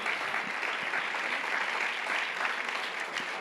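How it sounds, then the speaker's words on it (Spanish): A church congregation applauds the Lord during a sermon, producing a dense, steady wash of many hands clapping at a constant level, with no voices heard over it. "Dar un aplauso al Señor."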